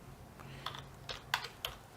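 A few light, quick keystrokes are tapped on a computer keyboard while code is being written, sparse clicks close up in a quiet room.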